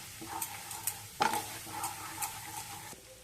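Flour and garlic are stirred in a hot, sizzling pan for butter garlic chicken, with a soft continuous sizzle broken by several close scraping strokes and one sharper knock.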